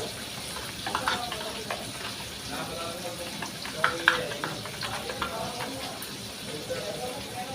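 Sarakandha fish curry is stirred in a hot pan, the soft sizzle and frying hiss broken by scraping, clacking strokes of the spoon that repeat irregularly up close, with faint talk underneath.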